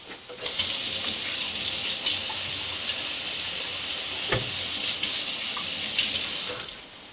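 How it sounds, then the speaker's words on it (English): Water runs steadily from a kitchen tap while hands are washed beneath it, a continuous broadband splashing hiss lasting several seconds, close and fairly loud, with no talking over it. "We're going to wash my hands now."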